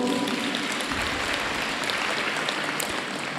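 A crowd at a Catholic church self-help group's annual general meeting claps together in steady, sustained applause that fills the room evenly from start to finish.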